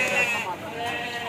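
Large sheep at a crowded livestock market let out bleats, one cry after another, at moderate volume over a busy din of people talking nearby.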